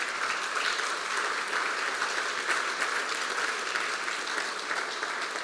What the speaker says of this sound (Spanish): Vamos a dar un aplauso grande al Señor